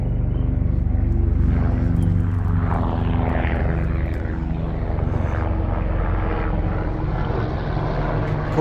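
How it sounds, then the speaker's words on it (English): A corporate helicopter passing overhead on a sunny day, its steady, loud rotor and engine drone filling the air throughout. "Corporate helicopter."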